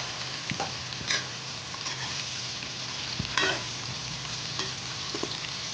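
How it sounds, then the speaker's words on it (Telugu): Thinly sliced tender jackfruit pieces fry in hot oil with a steady close sizzle. The pieces are stirred now and then, giving a few scraping clicks over the continuous hiss. "ఇప్పుడు సన్నగా కోసి పెట్టుకున్నాం కదండి పనసకాయ ముక్కలు, ఇదిగోండి వేయించుకోవాలి."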